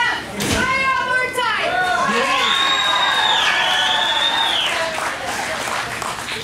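A wrestling crowd at a Best of the West show applauds and cheers steadily throughout, with high excited voices and shouts rising over the dense clapping, loud and close.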